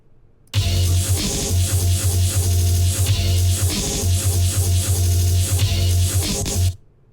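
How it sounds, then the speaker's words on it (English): Chopped vocal sample fragments from an Ableton electronic track play in a loud, steady stream of short stuttering slices over a pulsing low bass, running several seconds and stopping abruptly, with no talking. "So a couple of examples of how the sample is chopped up sound like this."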